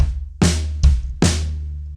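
Drum fill from a song on an acoustic drum kit: three loud, close hits with crashing cymbal wash and deep low thumps, each ringing out before the next.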